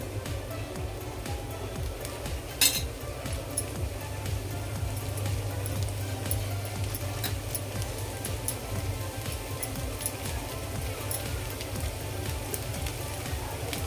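Cauliflower and egg bhurji being stirred in a pan, giving a steady soft sizzle and frying hiss throughout, with faint scraping and a brief sharper clatter near the start; no talking over it.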